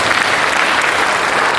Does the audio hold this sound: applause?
yes